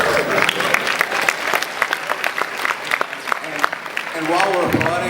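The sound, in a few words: panel audience applause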